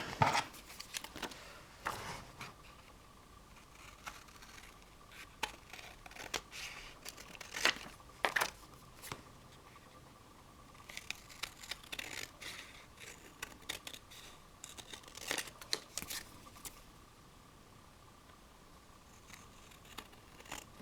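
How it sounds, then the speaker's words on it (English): Scissors trimming a large botanical book page for a junk journal, a series of crisp snips and paper rustles spread through a quiet room, close and fairly faint, with no talking. "let's just trim that off a bit"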